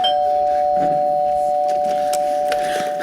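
A doorbell rings steadily and loudly during a stage performance of Arsenic and Old Lace, its sustained electronic tone holding with a faint room murmur underneath.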